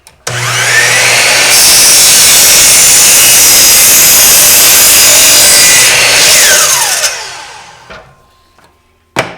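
A Bosch miter saw cuts through clamped wood, loud and close, with a high whining blade that holds steady for several seconds and then winds down to quiet.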